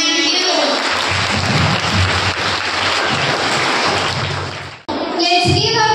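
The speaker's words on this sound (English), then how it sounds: "Let's give a big round of applause for the team." An audience applauds a school drama team at an inter-house dramatic competition: dense, loud clapping that holds steady for about five seconds, then cuts off abruptly before a voice resumes.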